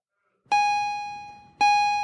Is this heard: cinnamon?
no